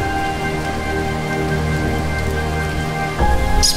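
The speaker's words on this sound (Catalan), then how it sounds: "I per fi la pluja." Steady rain falls in a continuous, loud hiss, with a faint musical drone beneath it and a brief heavier rumble near the end.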